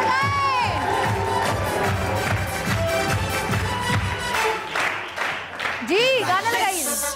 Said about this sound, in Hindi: आ जाए टीम नंबर वन के लिए बहुत सारी तालियां